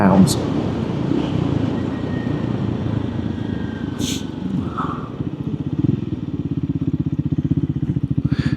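A Triumph Scrambler 400X motorcycle shifts down into first gear and rides gently, its engine giving a steady low thrum that becomes a pulsing, rhythmic putter in the second half, heard up close under wind noise and someone talking.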